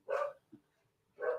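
A dog barks twice indoors, two loud separate barks about a second apart with a faint yip between them, close to the listener and with no talking.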